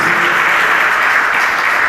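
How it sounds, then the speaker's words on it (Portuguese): A church congregation claps steadily together, a dense, even wash of applause filling the room. "Pode aplaudir para a glória de Jesus."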